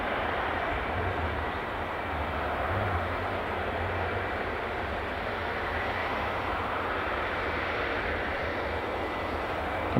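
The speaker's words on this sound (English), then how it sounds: "the Bologna flight is pushing back" The aircraft on the Bologna flight at Edinburgh Airport hums steadily as it pushes back, a continuous mid-level engine drone with a low rumble beneath that stays fairly even. No talking is heard.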